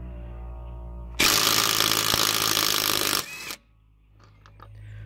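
A 3/8-inch drive brushless DeWalt impact wrench hammers loudly on a lug nut in one continuous burst of about two seconds, then stops, leaving a low background hum.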